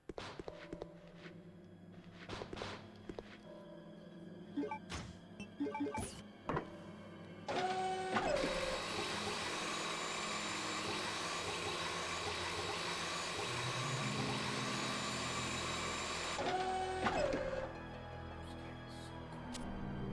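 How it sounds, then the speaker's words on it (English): A 3D printer runs steadily with a continuous mechanical whir and faint motor tones, flanked by two short rising-and-falling stepper motor glides; softer clicks and knocks come first, with no talking. "it's a 3D printer."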